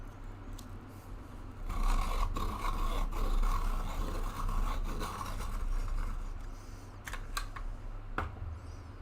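A Prismacolor Premier colored pencil grinds in a sharpener, a close rasping scrape that swells for several seconds and then trails off into scattered light clicks.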